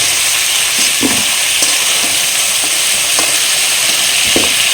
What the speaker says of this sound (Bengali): ঝিঙেটা হাই ফ্লেমে কিন্তু 2-3 মিনিট ভেজে নিয়েছি